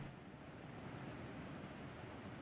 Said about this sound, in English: You can hear the waterfall a lot.